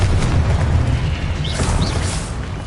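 A Confringo explosion spell cast in a video game: a loud, rumbling blast with a deep low boom and broad crackling noise that holds for about three seconds, with no voices over it.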